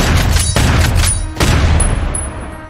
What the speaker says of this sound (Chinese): 一杆标有9853序列号的步枪连响齐声